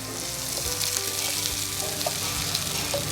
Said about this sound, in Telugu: ఇప్పుడు ఈ అన్నం ఇందులో వేసి కలిపేసుకోవాలి